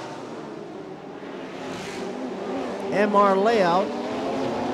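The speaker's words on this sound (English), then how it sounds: "Listen to that engine roar." A race car engine roars and revs at the Bangsaen Street Circuit in Thailand, rising and wavering in pitch as it passes, heard under a commentator's voice over steady track background.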